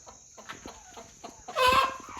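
Native country chickens settling in a shed at night, soft clucks and rustling leading into one loud close call from a single bird, over a steady high hum.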